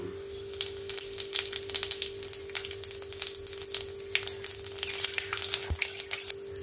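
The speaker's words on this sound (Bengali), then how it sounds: "এখানে যে আমি গোটা গরম মশলা আর সামান্য একটু জিরে রেখেছিলাম, সেটা এখানে ফোড়নে দিয়ে দেব।" Whole garam masala and a little cumin crackle and sizzle in hot oil in a home kitchen, a steady close spitting with bursts of popping and one sharp tap near the end, no voices.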